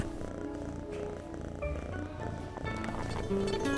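Soft, continuous purring of a domestic cat, low and close, running under some faint background sounds with no clear speech.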